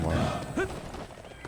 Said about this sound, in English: Okay, well, there's my horse.